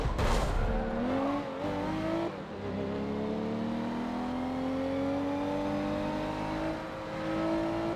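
Car engine revving in a racing video game against a WRX, 207 horsepower: a steady, rising engine whine climbing in pitch through gears, fairly close and continuous, with a brief dip midway and no talk.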